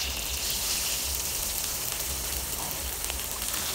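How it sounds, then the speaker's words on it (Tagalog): A steady, even sizzle of tilapia frying in oil in a pan, a continuous crackling hiss with no pauses and no talking. "So, una, iprito po yung isda"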